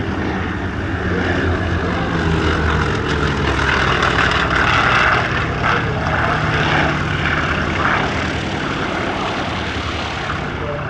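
A Grumman S-2G Tracker, a twin-propeller maritime patrol aircraft, flies past at an airshow with a loud, steady engine and propeller drone that swells slightly mid-pass and holds throughout.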